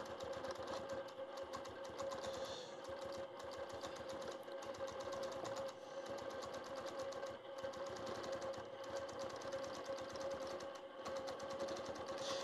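A longarm quilting machine stitches steadily in stitch regulated mode at a live quilting event, its rapid mechanical needle rhythm running continuously and loudly throughout.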